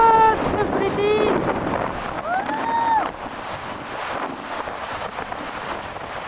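Strong outdoor wind buffets the microphone near a glacier lake at Briksdal in Olden, Norway, a continuous gusty roar with a few excited voices rising over it early on, then wind alone.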